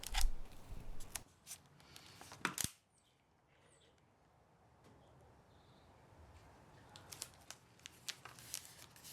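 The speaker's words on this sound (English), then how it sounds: "To go around any corners you need to cut tabs like this and fold them over individually." Scissors snip tabs into covering material around the corners of a Fokker Dr 1 model wing, giving close, crisp cutting and crinkling sounds in bursts, a quiet gap, then more light snips and rustles.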